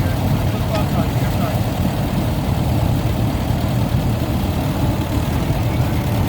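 An Oliver 60 tractor engine strains under load at a tractor pull event, a steady dense low rumble throughout with constant crowd and outdoor noise around it, no distinct revs or gaps.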